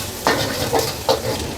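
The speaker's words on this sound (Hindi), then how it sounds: "फिर छोटे छोटे कट किए हुए लहसुन डाल देंगे और अदरक डाल देंगे और कुटी हुई हरी मिर्ची डाल देंगे और इसे अच्छे से भून लेंगे।" Garlic, ginger and crushed green chilli fry in oil and butter with a steady close sizzle, while a utensil scrapes and stirs the pan three times.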